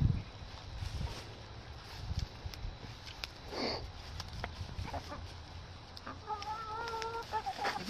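Chickens clucking softly nearby among low rustling and sniffing, with a short run of rhythmic clucks near the end.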